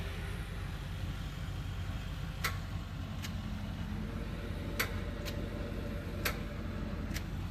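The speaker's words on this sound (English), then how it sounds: "Oh, look, the fan works." A vehicle's fan runs after being hooked up to power, making a steady low whir and rumble with a handful of sharp, evenly spaced ticks over it, moderately close and quiet.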